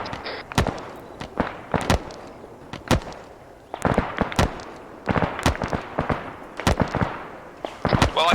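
Gunfire in the ArmA 3 video game aimed at the player: sharp cracking shots in irregular bursts, some single and some in quick doublets, loud and close over a rumbling battlefield backdrop.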